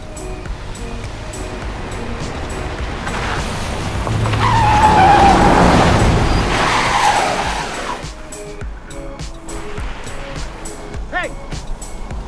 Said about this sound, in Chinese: 下雪的山路上，汽车非常少，过了很久才路过一辆车